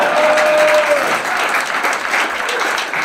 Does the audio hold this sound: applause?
yes